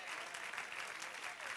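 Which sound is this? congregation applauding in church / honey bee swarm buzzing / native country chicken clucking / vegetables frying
congregation applauding in church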